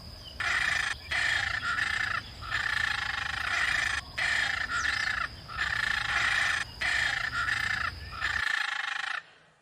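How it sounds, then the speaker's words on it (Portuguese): Scarlet macaws calling in the Amazon rainforest: harsh, loud squawks repeat close by in steady rhythmic bursts with short gaps. No voices are heard, and the calls end abruptly. "A imagem vibrante da arara vermelha, sempre em pares ou grupos ruidosos, sintetiza o dinamismo da Amazônia."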